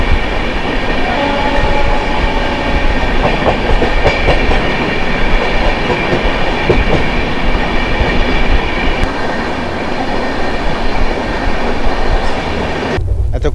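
Puri–Shalimar Sri Jagannath Express train, number 18410, rushing past up close, a loud steady roar of rolling wagons and rail clatter filling the whole stretch before cutting off abruptly at the end.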